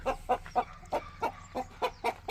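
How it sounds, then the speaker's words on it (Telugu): Chicks hidden in thorny bushes give a quick run of about ten short, rhythmic clucks and peeps, close and fairly clear against quiet background. "మళ్ళీ దాంట్లో కోడి పిల్లలు ఉన్నాయన్నమాట కంపల్లో"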